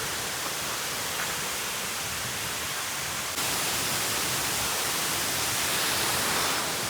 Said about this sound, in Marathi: आवाज येत असेल तुम्हाला धबधब्याचा.